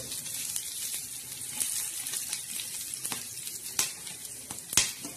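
Whole spices dry-roasting in a pan for black masala: a soft, steady crackle and hiss with occasional sharper pops and faint scrapes, fairly quiet and without voices.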